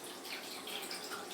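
Steady water running from a toilet that is not properly resetting, heard in a dark basement level beneath a full bathroom; a continuous faint hiss and trickle with no break.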